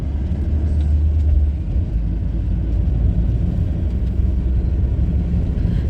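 Inside a taxi on a road in Sharm el-Sheikh, Egypt, a steady low road and engine rumble fills the cabin, loud and continuous, with no talking.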